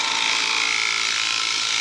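A drill press boring slowly through wood, a steady bright whir with a gritty cutting hiss that continues unbroken from start to finish, loud and close, with no voices.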